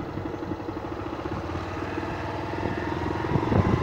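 A motorcycle engine on a practice course during a riding lesson runs at a steady idle-like rumble, then swells slightly louder as the bike moves off. Close, continuous, with no talking over it.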